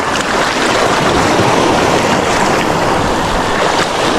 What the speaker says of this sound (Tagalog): Galit yung alon sa akin